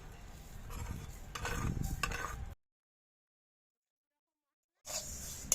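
Fennel, fenugreek and black cumin dry-roasting in a pan, stirred with soft scraping and rattling of seeds against the metal and faint sizzle, broken by a silent gap before the stirring resumes.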